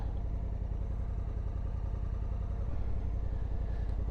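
A 2024 Honda Africa Twin Adventure Sports DCT ES motorcycle being ridden, its engine giving a steady rumbling drone under rushing wind noise throughout.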